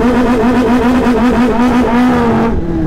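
A Kawasaki ZX-10R motorcycle on a launch-control start, its engine roaring loud and close with a high, rising rev before easing off at the end.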